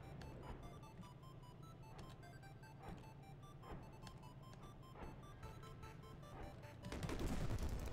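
Rapid gunfire from a weapon in the high-speed dodging video game Barrier X, repeated sharp bursts over a steady droning game soundtrack, swelling into a louder burst near the end.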